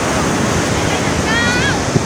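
A strong, fast-flowing flooded creek surges with a loud continuous roar and wind buffeting the microphone, and a brief faint whistling tone and a small knock show up near the end.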